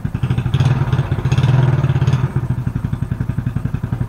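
Motorcycle engine cranking and catching after a fuel pump check, running loud and close with a fast steady thumping idle that surges briefly and then settles.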